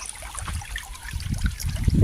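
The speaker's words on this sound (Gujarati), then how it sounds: "મારે વાસણ ઉટકવાય તો રહ્યો જાય ને" Running water splashes and trickles close by, an uneven gurgling flow with small clatters, growing slightly louder toward the end.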